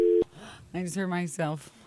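A telephone line tone after the caller hung up sounds as one steady electronic burst of about a quarter second at the start, followed by close conversational talk.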